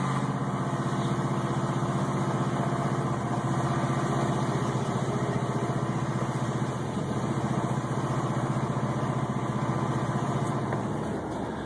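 A Crown Victoria engine running rough on HHO gas with no fuel left, a loud, steady, close idle drone with a slightly uneven pulse that continues unbroken and alone throughout.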